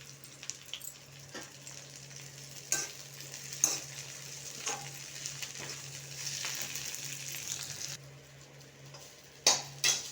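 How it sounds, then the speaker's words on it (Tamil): Onion, garlic and mint leaves sautéing in a pan for a traditional pudina thokku, with a steady sizzle and stirring scrapes, plus a few sharp utensil clicks against the pan, close and alone. "இப்போ வெங்காயமும் பூண்டும் நல்லா வதங்கிட்டு புதினாவையும் போட்டு வதக்கலாம்."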